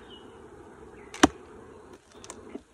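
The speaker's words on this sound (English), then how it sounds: "I've never had such vigorous bees" A low, steady hum of buzzing honey bees in a hive hangs in the background during an apiary inspection, broken by a sharp click and a few brief knocks.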